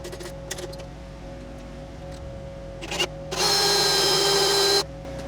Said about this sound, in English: Kind of hard to use a drill in the rolly chair.